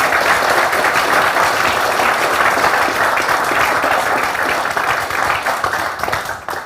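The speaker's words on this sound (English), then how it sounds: "another round of applause for Neil Leach." A conference audience applauds a speaker after an architecture talk, dense steady clapping from a large crowd, loud and close, tapering slightly at the end.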